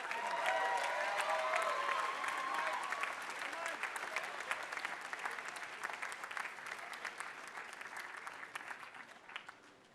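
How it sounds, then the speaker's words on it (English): An audience applauds at a medical school class day ceremony, sustained clapping from a large crowd that starts full and gradually thins and fades toward the end. "And one last round of applause for the Castle Society."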